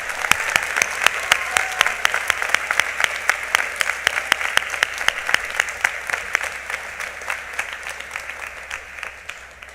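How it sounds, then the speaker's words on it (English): Steady, lively applause from an audience at a Veterans Day ceremony, a dense patter of clapping hands that holds throughout and eases slightly near the end. "Please give a round of applause for these special staff members."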